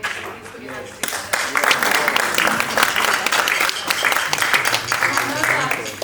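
After a moment of quiet talk, applause breaks out from an audience at a ghazal concert at the Peepul Centre, a lively, close wash of clapping hands that continues steadily with some voices mixed in.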